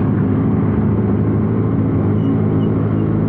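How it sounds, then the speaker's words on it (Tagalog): Road traffic in Rizal, Philippines, rumbles steadily and loudly as a dense low engine drone of passing vehicles that never lets up. "Maaga mag-traffic dito sa Rizal, no?"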